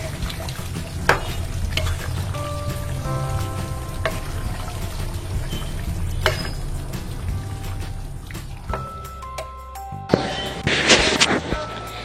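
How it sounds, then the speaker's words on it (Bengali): A spoon stirs beef curry in a pot with repeated scrapes and knocks over a steady low simmering sizzle, close up. A louder burst of hissing sizzle comes near the end. "এখন আমি একটু চামচ দিয়ে নেড়ে দিব"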